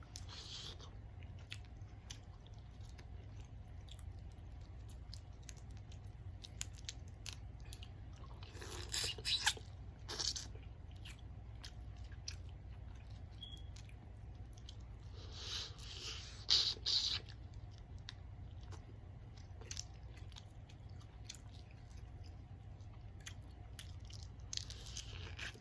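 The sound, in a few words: chewing spicy seafood boil with squid, crab, crawfish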